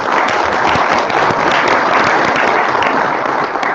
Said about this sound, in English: Another round of applause for Billy.